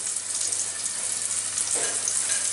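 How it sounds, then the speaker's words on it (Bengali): Sliced onion frying in hot oil alongside cardamom pods, broken cinnamon sticks and bay leaves for shahi polao, giving a steady, close, even sizzle with a faint low hum underneath and no voices. "ওই পেঁয়াজ, যে কোনো পেঁয়াজ দিলেই হয়, ওটাকে একটু ভাজবো।"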